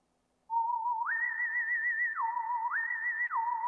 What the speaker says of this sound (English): what the portamento will do is, if you're holding a key and you play an octave, it'll slide smoothly up to that next key